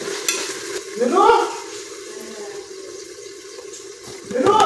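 Vegetables and paneer pieces sautéed in oil, a moderate sizzle with stirring scrapes, interrupted by a woman's speech over the cooking.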